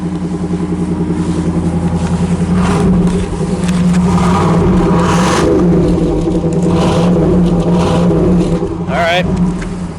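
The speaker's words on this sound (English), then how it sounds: "Let's start it up. I want to hear it. I want to hear the exhaust." Unrestored 1977 Pontiac Trans Am idling then revved a few times, a deep burbling exhaust rising and falling close by, with people talking over the engine.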